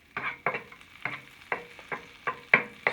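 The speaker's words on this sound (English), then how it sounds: "As soon as the butter starts sizzling, it's ready to put the fish in." Butter sizzles in a hot pan over medium to medium-high heat before fish goes in for tacos, with a steady frying hiss broken by regular, sharp bursts about every half second, close and fairly loud.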